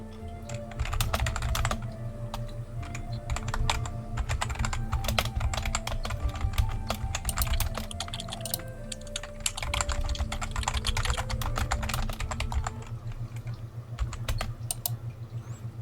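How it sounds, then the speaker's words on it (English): Continuous rapid typing on a computer keyboard, dense clattering keystrokes in an uneven rhythm, close and steady for the whole stretch with no talking. "Sorry, I'm typing this out."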